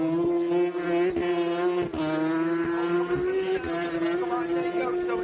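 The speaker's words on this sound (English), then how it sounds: "here's the Ducati. Listen to this." Ducati superbike racing at the North West 200 road race, a sustained high engine note with gear-change dips, heard under excited commentary.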